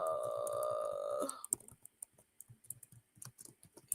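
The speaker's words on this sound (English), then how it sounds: "Let me type YouTube channel." Quick, light keystrokes on a computer keyboard come in an irregular burst right after a brief tonal sound fades, the clicks close and fairly soft with no voice.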